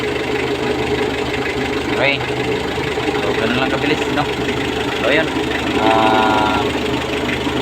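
The diesel engine of a Mitsubishi L300 van runs at a steady idle with an even mechanical rumble and some knocking, close by, while people talk over it.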